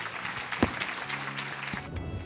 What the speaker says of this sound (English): Some applause for these 2 ladies.